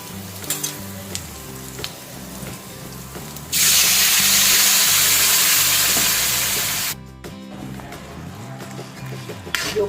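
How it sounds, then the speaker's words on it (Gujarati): Cumin seeds tempering gravy in hot oil burst into a loud, bright sizzle for about three seconds midway, over steady background clatter and low hum before and after. "હવે ગ્રેવીને થોડા જીરા સાથે વઘારી લઈશું"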